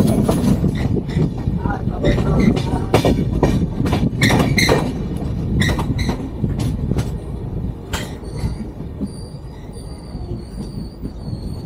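Kamakhya Capital Express train slowing into New Mal Junction, loud rumbling and clattering wheels with sharp metallic clanks, easing off toward the end while a faint high squeal lingers and voices mix in underneath.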